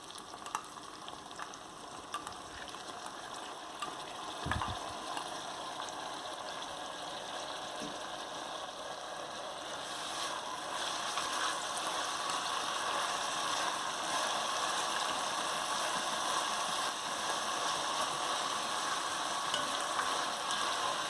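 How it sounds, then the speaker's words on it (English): Deboned saltfish is stirred into vegetables in a hot pan for ackee and saltfish, giving a continuous frying sizzle with occasional scrapes and knocks of the utensil, which grows fuller and louder partway through. "I'll just add my deboned saltfish and mix it in with my vegetables."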